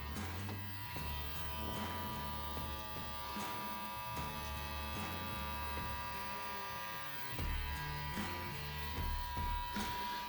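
Electric beard trimmer buzzing steadily while trimming a beard up close, a continuous motor drone that dips and rises as the blade moves through hair, with no talk.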